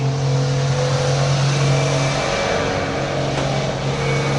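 A hard-worked truck engine drones and revs steadily nearby, a loud sustained motor hum that shifts slightly in pitch partway through, with no talking.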